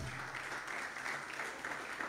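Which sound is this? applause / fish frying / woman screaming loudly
applause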